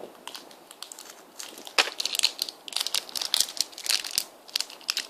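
Hi-Chew candy wrapper being cut and pulled open up close, a dense run of crinkling, crackling plastic rustles with sharp snips and crunches.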